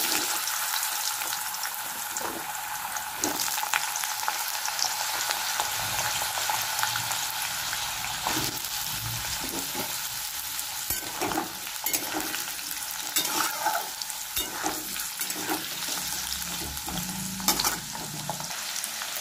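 Prawns and potatoes frying together in a pan for a Bengali prawn and potato curry, a steady broadband sizzle that holds for the whole stretch, broken by frequent scrapes and clatters of stirring, with no voices.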